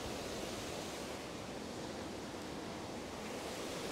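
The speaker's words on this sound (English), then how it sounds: "I'm very thankful that it's been raining, so there's a lot of water in the waterfall" Rain-swollen waterfall at a monastery in Moldova, a steady dense roar of rushing water filling the whole clip with no breaks, fairly close and constant.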